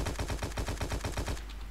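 Automatic gunfire in the free-to-play shooter game War Inc Battlezone: a steady, fast rattle of about a dozen evenly spaced shots that cuts off abruptly, leaving a low hum.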